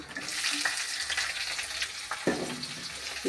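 Onion frying in a pan for a cluster bean stir-fry, with curry leaves, chana dal and green chillies already in; a steady close sizzle with a few scraping stirs and no talk.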